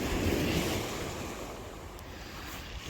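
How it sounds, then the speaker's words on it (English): Sea waves wash onto the shore at night, a broad, steady surf rush with wind noise on the microphone, one swell fading after the first second. "the sea is getting pretty near me"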